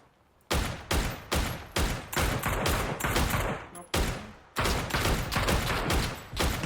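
Rapid bursts of gunfire in PUBG crack in quick succession, about a dozen sharp volleys with brief gaps, loud and close.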